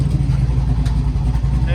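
Turbocharged Chevy engine holding against a 2-step launch limiter set at 3200 rpm, a loud steady low rumble with choppy pulsing throughout, close by.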